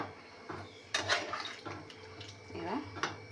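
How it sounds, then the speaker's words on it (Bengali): Water poured into a pan of pumpkin and potato curry, a short splashing pour with a few brief bursts of liquid hitting the pan. "আমি জল দিয়ে দেবো।"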